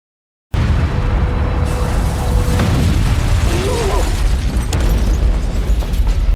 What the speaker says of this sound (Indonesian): tombol ditekan dan bom pertama langsung meledak di Mumegai